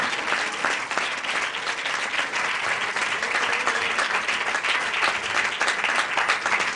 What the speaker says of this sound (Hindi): कम ऑन ताली बजाकर प्रभु को धन्यवाद करें।